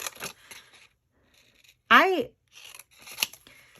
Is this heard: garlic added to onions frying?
no